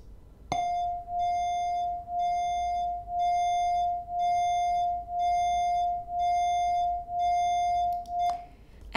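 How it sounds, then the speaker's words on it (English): Two pure tones at 703 and 704 hertz sounding together, forming one steady sustained note that swells and fades once per second in a slow, regular beat for about eight seconds, alone and without voices. "As you hear, you have the beat frequency, and there's one beat each second because of the 1 hertz difference between these two tracks."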